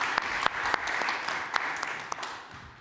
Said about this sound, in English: And yeah, another round of applause.